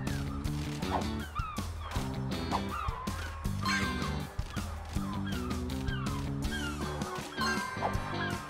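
Cartoonish bird honks from a Paw Patrol video game sound repeatedly over bouncy, looping game music with a steady beat, moderately loud and with no talk.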